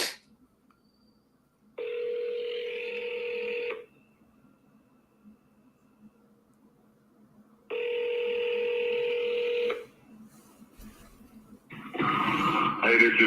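An outgoing telephone call ringing: two long electronic ring-back tones a few seconds apart on a quiet line, followed by a voicemail greeting as a voice begins speaking.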